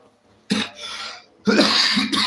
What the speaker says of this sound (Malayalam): ചുമയൊക്കെ പിടിച്ചു